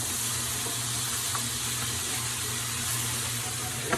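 Food frying in a pan, a steady close sizzle with faint hissing and low background hum, running continuously with no voices.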